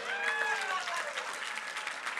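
A church congregation claps in a quick, steady wash for a couple of seconds, heard at moderate distance, with faint voices and whoops rising over the clapping early on.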